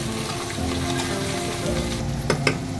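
Egg with chopped tomato, onion and green chilli frying in a pan, a steady close sizzle with a couple of sharp scraping taps near the end.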